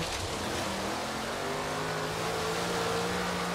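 A twin-turbo Ford GT engine in Forza Horizon 3 drones steadily with rising whine tones, turbo hiss and a blow-off valve release, loud and continuous with no talk.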